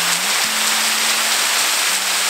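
A waterfall at Lake Willoughby gives a loud, steady hiss of rushing, splashing water, close and continuous, with a faint low tone running beneath.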